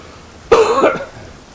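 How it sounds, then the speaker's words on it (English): One short, harsh cough up close, lasting under half a second, with nothing else around it. "I'm gonna cough already"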